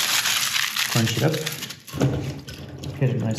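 Wet aluminium foil is crumpled by hand in a few short crinkling bursts, fairly close and loud, with a broadband hiss running between them.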